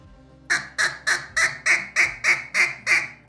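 A hand-worked duck feed call imitates a single feeding duck with nine evenly spaced, squeaky, nasal quacking notes, close and clear, with no talk over them.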